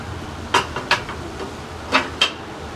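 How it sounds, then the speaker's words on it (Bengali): Spoon stirring moong dal with ash gourd in a pot, four sharp metallic clinks in two pairs against the pot rim, close and distinct over quiet background. "এটা ভালোভাবে নেড়ে নেব।"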